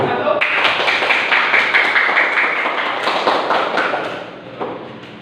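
Group applause in a classroom for the first student group, a dense spread of many hands clapping together that starts abruptly, stays steady for several seconds, then thins out toward the end.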